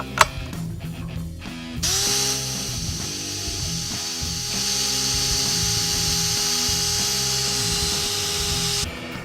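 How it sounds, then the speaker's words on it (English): A drill whines steadily as it bores a pilot hole into a steel pin on a Bulldog tractor front tube, close and sustained for several seconds, after a few light knocks and scrapes. "we got our pilot hole drilled in the pin, like very much dead center"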